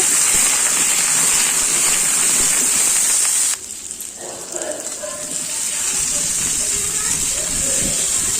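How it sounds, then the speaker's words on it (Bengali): Potatoes fry in mustard oil in a wok with a loud, close hiss that suddenly drops, then builds back into a softer, steady sizzle with faint crackles. "ওই তেলেই আমি এবার আলুগুলো দিয়ে দেব। আলুগুলো হালকা ভেজে নেব।"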